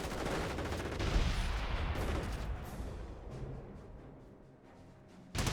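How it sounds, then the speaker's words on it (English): Artillery barrage and gunfire from the World War II strategy game Company of Heroes, a dense continuous rumble of overlapping shots and blasts that stays loud throughout and eases slightly before a fresh burst at the end. "Noble Warfare firing a barrage there"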